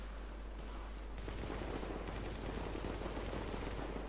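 Dense automatic gunfire in the video game The Division, a sustained rattling fusillade of rapid shots that grows louder after the first second and keeps up unbroken, with no speech over it.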